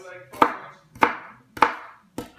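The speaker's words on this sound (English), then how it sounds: "they don't really like big slices of onion, so you have to cut them smaller" A knife chops onion into smaller pieces on a cutting board, four sharp, distinct strikes spaced about half a second apart, close and clear with short decays and no talking.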